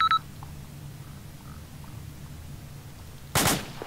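A single loud, sharp gunshot bursts out near the end in the video game Arma 2, following a quiet stretch of low background hum and a short electronic beep at the start.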